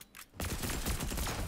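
Stark Industries Energy Rifle fire in Fortnite Battle Royale, with a brief lead-in and then a dense rapid burst of loud electronic shots running to the end.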